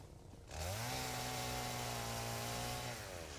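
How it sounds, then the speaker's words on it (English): A chainsaw in the Satisfactory video game, used for chopping down trees, revs up sharply and holds a loud, steady buzzing drone, easing slightly at the end. "Let's get the chainsaw. Start running around chopping down trees."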